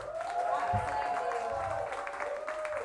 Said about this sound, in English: Can we just have quickly one more round of applause for the poets just before the break?